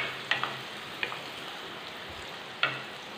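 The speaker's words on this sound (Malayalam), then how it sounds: "അപ്പോൾ നോക്കാം, നമ്മൾ ചേർത്ത ഉള്ളി നന്നായിട്ട് ഇവിടെ ഫ്രൈ ആയി വന്നിട്ടുണ്ട്" Onions fry in oil left over from frying chicken, a steady low sizzle with a few sharp spatters and pops close by, no voices.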